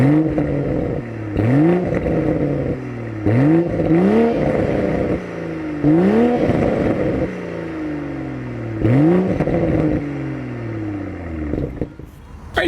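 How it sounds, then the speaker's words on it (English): A 2026 Toyota GR Supra, the final MkV model, revving its exhaust in repeated blips, each rising sharply then falling off, about five loud pulls in a row close to the car. "As always, here is that exhaust clip."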